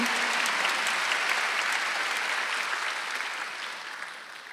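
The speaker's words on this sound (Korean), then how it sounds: "빨리 박수해." A congregation claps together during a Korean church Wednesday worship service, a dense, steady wash of many hands that fades slightly toward the end.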